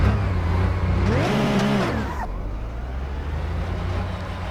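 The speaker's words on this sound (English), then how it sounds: "We are on board the Porsche 911 GT3R." A Porsche 911 GT3R race car engine, heard on board at Spa in Assetto Corsa, briefly climbs in pitch and then drops away beneath a steady rush of wind and road noise.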